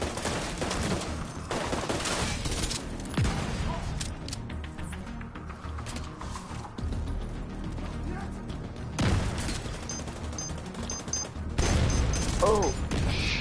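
Artillery and small-arms fire in a PS4 video game battle, with sustained loud volleys, heavy booms and crackling shots blending into a dense, continuous din, brief lulls between bursts.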